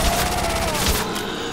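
Rapid gunfire from Thompson and PPSh submachine guns in World at War Zombies, a dense fusillade of shots with a louder burst near the start and another around the middle, close and continuous.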